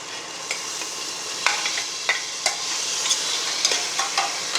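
Salted dried meat (uppu kandam) frying in a pan with softened tomato, a continuous sizzle broken by sharp stirring scrapes and spatula knocks every second or so.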